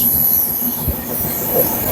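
A train rolls steadily along the rails through the Western Ghats hills in monsoon, with a loud continuous rumble, a faint high wheel squeal and soft clunks from the track.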